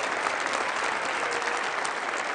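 Audience applause at a live comedy show, a steady dense wash of clapping filling the whole moment, loud and continuous without a break.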